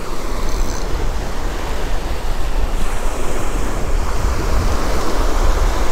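Ocean surf rolls in steadily on an empty beach with the tide still coming in, a continuous loud wash of breaking waves mixed with gusty wind buffeting the microphone throughout.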